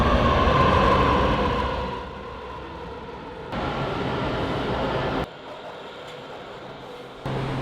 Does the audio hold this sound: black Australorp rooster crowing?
no